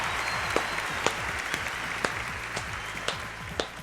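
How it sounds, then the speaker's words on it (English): A studio audience applauds steadily with sharp individual claps standing out over a soft continuous patter, moderately faint. "Can we get a big round of applause?"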